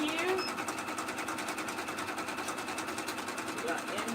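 A home sewing machine stitches Etsy orders with a rapid, steady mechanical whir and even pulsing rhythm, close and continuous throughout, with a voice speaking faintly under it.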